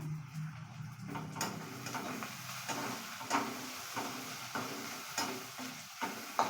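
Eggs frying with onion in a pan, a steady broadband sizzle with repeated scraping stir strokes roughly every half second, close and moderately loud, with no voices.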